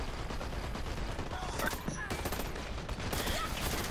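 Rapid, dense automatic sniper rifle fire in the online shooter Dirty Bomb, a continuous crackling barrage of overlapping shots and battle noise at a steady level from start to finish.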